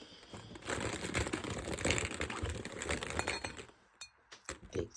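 Mystery capsules tumbling out of a capsule toy machine: a dense run of plastic clinks, rattles and clatter for about four seconds, then a pause and a few last separate knocks, close and without speech.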